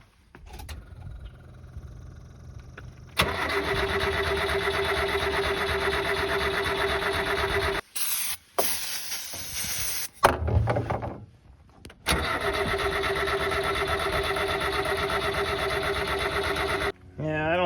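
A Subaru kei truck that will not start, with a suspected fuel pump fault, runs on ether. The engine roars steadily, cuts out and sputters, then catches again and runs evenly, with voices heard at times.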